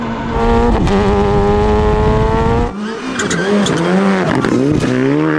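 A 380 hp Mitsubishi Mirage rally car slides sideways into sand on a rally stage. The engine screams loud and close, dips briefly mid-slide, then revs back up while the tyres dig and spray.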